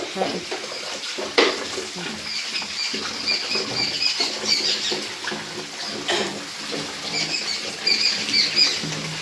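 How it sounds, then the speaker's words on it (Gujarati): Steady rain patters densely throughout at a grocery store, with occasional louder splashes and clatters from a pipe rising above the continuous wash of drops. "આ તો વરસાદ બહુ છે"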